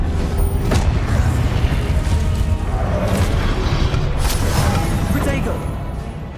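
Confringo blasting spell explosions in the video game Hogwarts Legacy, several sharp booming bursts spread through loud, busy combat noise with mechanical clatter and voices.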